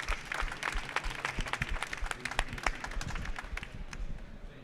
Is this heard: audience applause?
yes